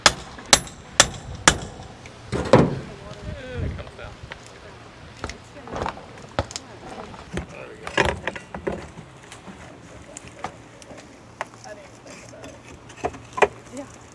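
Sharp hammer strikes ring out irregularly, several quick blows near the start and scattered hits later, with clanks and shuffling around them.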